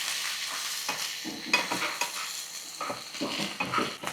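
Green chillies fry in oil in a pan with a steady sizzle. A spoon stirs and scrapes against the pan in several irregular strokes, close and moderately loud.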